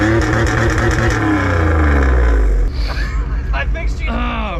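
A van's engine revs loudly through a single exhaust with a transverse Camaro-style Flowmaster knockoff muffler, a sustained droning roar that holds for a few seconds and then drops away to idle as people talk over it.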